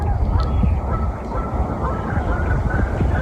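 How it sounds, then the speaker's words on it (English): Canada geese, trumpeter swans and sandhill cranes calling across a marsh at sunrise, a dense, continuous chorus of honks and trumpeting from many birds at middle distance with no clear pauses. "there's trumpeter swans and sandhill cranes, and of course the ubiquitous Canada goose."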